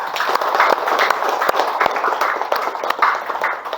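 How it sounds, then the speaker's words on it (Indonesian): A classroom full of students claps together, dense rapid overlapping hand claps held steadily for a few seconds at close range, with no distinct voices over them. "tepuk tangan buat kita semua"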